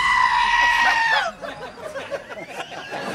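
A goat bleating sound effect, a loud wavering bleat that holds for over a second, then breaks into a rapid stuttering of shorter bleats.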